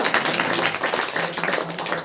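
A church congregation clapping hands together at a Saturday prayer meeting, a dense steady crowd of claps lasting a couple of seconds, loud and close with faint voices mixed in.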